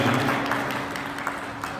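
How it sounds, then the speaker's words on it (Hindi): Loud applause at a Hindi poetry gathering, a dense, sustained wash of clapping from a large crowd, steady and even throughout. "जोरदार तालियां"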